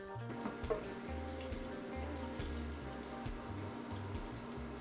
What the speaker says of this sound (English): followed by 2 cups of hot water.